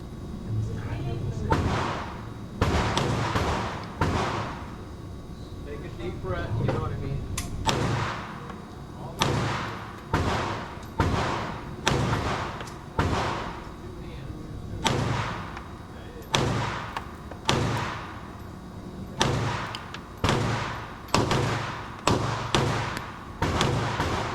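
A Springfield Echelon pistol fires Remington ammunition from the green and white box at a 10-yard shooting range. The sharp, loud shots come close by in irregular bursts, each ending in a short echoing tail, with no talking.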